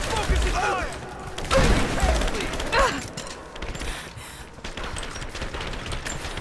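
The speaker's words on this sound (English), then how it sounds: "Open fire. Keep firing." Gunfire in the video game Rise of the Tomb Raider, sharp bursts and rapid shots crackling through a busy in-game firefight, with mechanical clatter and a voice talking over parts of it.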